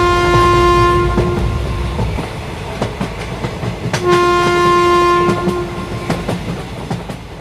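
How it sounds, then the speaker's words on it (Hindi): A train rolls past with a steady rumble and rhythmic clickety-clack of the wheels, loud and close, while its horn sounds twice in long blasts, with no voices. "ये ट्रेन रात के 2 बजे हमें चूहापुर पहुँचाएगी"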